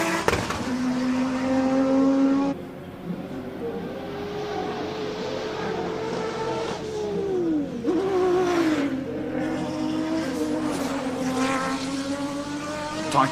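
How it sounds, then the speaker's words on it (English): An Audi S4 launches hard at a hillclimb and accelerates away, its engine revving loud and close with rising and falling pitch through gear changes, then fading as it pulls off up the road. "That's Aldo Scribonti in the Audi S4. Unbelievable launch, but listen to this car."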